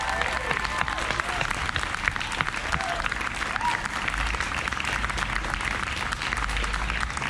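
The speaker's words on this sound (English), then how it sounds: "Round of applause for our GSA." Audience applause at a Rye City evening event honoring a GSA group, sustained dense clapping throughout from a sizable crowd, with faint voices beneath.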